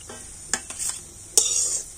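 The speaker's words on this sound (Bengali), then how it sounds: "পিছন সাইডটাও খুব সুন্দর করে ভেজে নিয়েছি।" Fish roe frying in a pan, giving a soft steady sizzle with a few sharp scrapes of a utensil stirring against the pan, close and alone.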